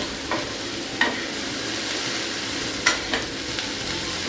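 Okra fries in oil on a dosa pan, giving a steady soft sizzle punctuated by a few sharp scraping clicks as the pieces are turned over with a utensil.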